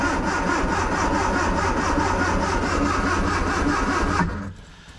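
A Triumph Spitfire 1500 engine on a cold morning runs steadily at a loud, close idle with a rough, even pulsing throb, then cuts off abruptly near the end.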